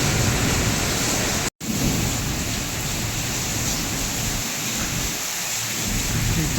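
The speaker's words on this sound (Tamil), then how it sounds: "மழை பெஞ்சிட்ருக்கு" Heavy rain pours down steadily and loudly with rolling thunder mixed in, a dense continuous wash broken by one brief cut to silence early on, with faint talk beneath.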